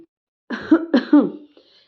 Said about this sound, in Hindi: वो गला साफ करते हुए बोला